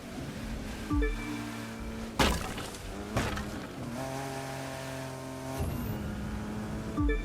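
A sports car in The Crew 2 racing downhill at top speed, engine droning high and steady with repeated rising shift sweeps and bursts of wind and road roar, loud and close.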